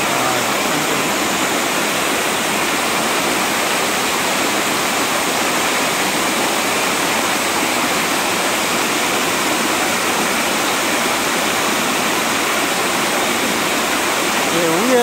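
Steady, dense roar of Geumryong Falls on Seongchisan, Geumsan, South Korea, loud and close, a constant rushing wash of water with no breaks for the whole stretch.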